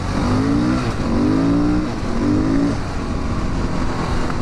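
A motorcycle accelerates through traffic, its engine pitch rising in three repeated surges through the gears, loud and close over a constant roar of wind noise.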